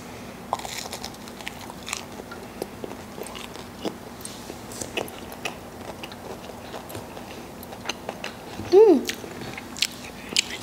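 Crispy Wendy's food dipped in honey mustard sauce being bitten and chewed close to the microphone, with scattered sharp crunches and wet chewing and a louder bite near the end.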